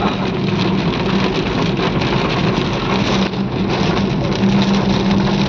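Heavy rain pounding a car driving on a highway, a loud steady roar of water and road noise with a low engine hum underneath, unbroken and close.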